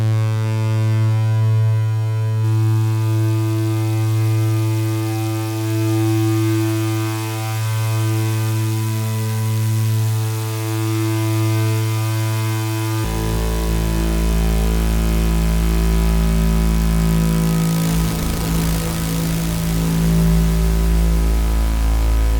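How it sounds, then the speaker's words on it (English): A sustained synthesizer drone in Ableton Live 12 holds steady tones, shifting to a new chord midway, with reverb and delay giving a washy reverberant tail and echoes filling the sound. "let's add some reverb and delay to it and create a really quick drone."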